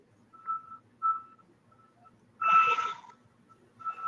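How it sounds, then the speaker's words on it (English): A semi truck reverses with a backup alarm giving short, faint, evenly pitched beeps spaced apart. A louder burst of broadband noise cuts in between them. "But you hear that semi backing up."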